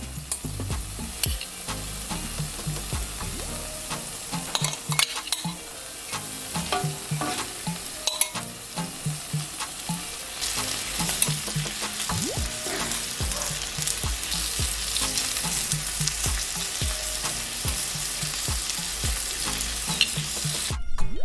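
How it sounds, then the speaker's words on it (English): Shrimp searing on medium-low heat in the same pan just used for steak: a continuous close sizzle and crackle with occasional stirring scrapes, steady and fairly loud from start to finish, with no talking. "So in the same pan on medium-low heat, I'm going to quickly sear my shrimp."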